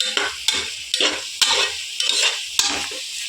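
Chopped tomatoes are stirred into onion paste in a frying pan for mushroom biryani, a spoon scraping in regular strokes about every half second over a loud sizzling hiss.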